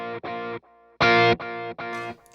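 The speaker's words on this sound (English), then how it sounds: "I'm going to add a left-right delay." A studio-recorded electric guitar with overdrive and a left-right stereo delay plays choppy, loud chord stabs in uneven rhythm. Quieter delayed repeats fill the gaps between the stabs.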